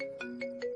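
A phone ringtone plays alone, a short bright electronic tune of three quick repeating chimes over a steady tone, close and clear.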